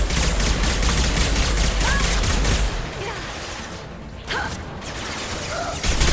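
Sustained, dense gunfire and combat effects from the video game Mass Effect 2, a continuous loud barrage that thins out partway through, with brief bursts of sharper shots afterward.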